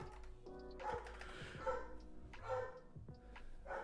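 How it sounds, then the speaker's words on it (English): A pet dog barks and yips excitedly indoors during a mechanical keyboard build, several sharp barks in irregular bursts with a low steady hum underneath. "apologies if you can hear my dog. She definitely thinks we're under attack right now."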